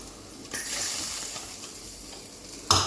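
A snake gourd stir-fry is stirred in a hot pan, giving a steady sizzling hiss with a louder burst of frying. A sharp scrape or clink of the utensil comes at the end, with no talking.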